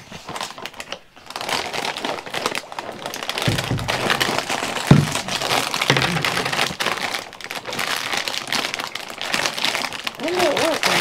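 A glued plastic bag crinkles and tears open in busy bursts, close by, with people talking over the rustling throughout.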